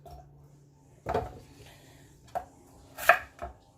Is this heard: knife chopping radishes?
yes